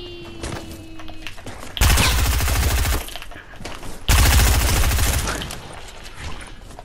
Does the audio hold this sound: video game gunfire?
yes